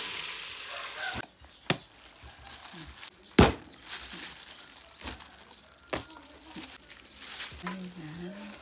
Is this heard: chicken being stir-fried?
yes